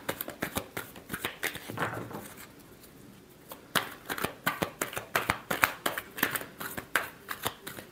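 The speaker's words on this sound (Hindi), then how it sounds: "Last shuffle." Tarot cards are shuffled over and over in quick, papery riffles and flicks, a faint, close, steady rhythm that pauses briefly midway before resuming in sharper bursts.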